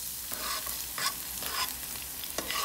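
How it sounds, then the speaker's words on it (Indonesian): Garlic sautés in hot oil for carbonara, a steady close sizzle with occasional stirring scrapes and pops, fairly soft and without talk. "So, ilalagay na natin yung ating bawang."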